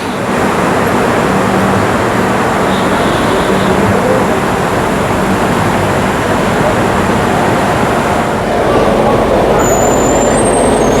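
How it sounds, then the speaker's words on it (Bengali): Padatik Express pulling out of Sealdah station, a loud, steady broadband rumble of rolling wheels and running machinery that holds unbroken for the whole stretch, with a slight swell near the end. "শিয়ালদা স্টেশন থেকে আমাদের ট্রেন ছাড়লো 11:20-তে।"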